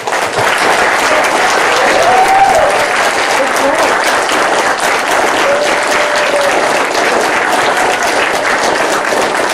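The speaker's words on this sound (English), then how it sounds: "How about a round of applause?" An audience at an Eagle Scout court of honor applauds a troop's newest Eagle Scout, loud sustained clapping filling the room with a few cheers and voices mixed into the crowd noise.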